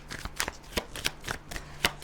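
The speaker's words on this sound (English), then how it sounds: "I didn't actually shuffle the self-love prompts off camera" Self-love prompt cards being shuffled by hand, a close series of quick papery riffles and soft slaps in an irregular rhythm, quiet and alone without talk.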